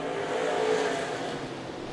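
Stock cars roar together at the green-flag start of a heat race at Interstate Speedway, a loud sustained blend of engines droning steadily with no break.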